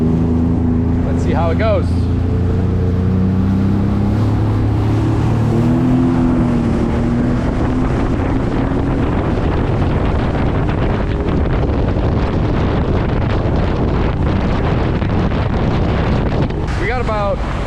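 A warmed-up jet ski idles and runs on Lake St. Clair, a loud, rough engine drone buried in heavy wind buffeting across the microphone, with a brief spoken line near the start.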